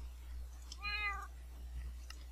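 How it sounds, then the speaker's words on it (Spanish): A cat meows once in a video game, a clear harmonic call of about half a second that stands alone over a steady low hum and faint background noise. "Aquí está el gato."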